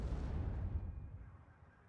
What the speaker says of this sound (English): Artillery landing a bit far off the target there.